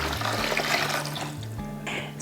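Six cups of water pour into a roaster while chili is being prepared for pressure canning, a close, steady splashing stream that runs for about two seconds.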